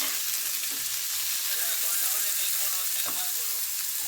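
Chopped tomatoes hitting lightly fried onions in a hot pan, a loud, steady hissing sizzle up close with a couple of soft stirring knocks, continuous throughout.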